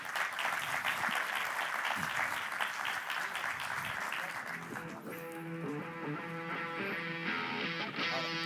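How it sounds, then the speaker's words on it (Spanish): An audience at a Spanish-language soybean industry conference applauds loudly and steadily, then the clapping fades as music rises and carries on under it. "Un fuerte aplauso"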